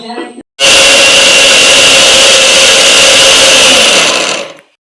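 A kitchen grinder whirs steadily and loudly for about four seconds, blending spinach into a fine paste for palak paneer, starting abruptly after a brief moment of quieter background sound and winding down at the end.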